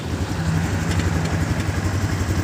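A 2019 Viar Karya 150L motorcycle engine idles close by with a steady, low, even putter that runs loud and continuous throughout.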